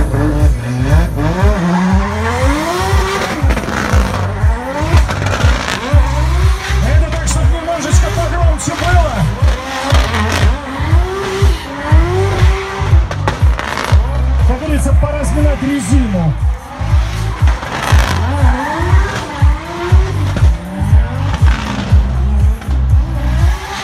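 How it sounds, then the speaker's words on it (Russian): Drift car engine revving hard with screeching tire squeal, loud and continuous throughout, with rising and falling engine pitch and a babble of crowd noise underneath. "Заметьте, это машина для дрифта"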